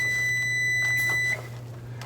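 A kitchen oven timer goes off during a batch of homemade granola, giving a steady, piercing electronic beep over a low hum. The beep cuts off abruptly partway through, and no one speaks.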